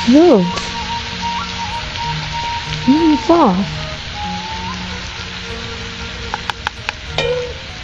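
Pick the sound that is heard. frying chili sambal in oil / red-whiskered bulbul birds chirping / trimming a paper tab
frying chili sambal in oil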